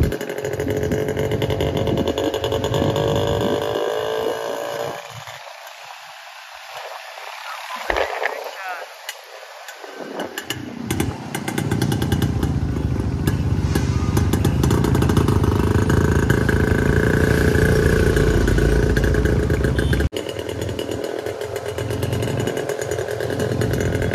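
Motorcycle engine running loudly nearby with a rough, buzzing idle and revs, briefly dropping away before returning steady and strong, with people talking over it at times.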